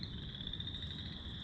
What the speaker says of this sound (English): Just saw a frog jump in here